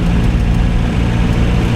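An old, basic economy car in third gear cruising at about 25 to 30 mph, giving a steady low engine drone and road rumble heard from inside the cabin, with no talk.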